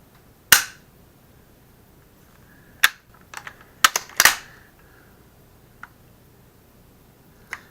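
A Swiss K31 straight-pull bolt-action rifle's two-stage trigger is dry-fired and its action worked, producing several sharp, close metallic clicks and snaps spaced irregularly over a few seconds with quiet between.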